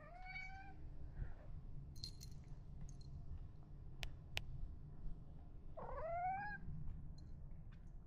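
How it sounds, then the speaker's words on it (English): A house cat indoors in a home kitchen gives two clear meows a few seconds apart, with only a faint low purr-like murmur beneath and small household clicks between. "There's little kitty cat."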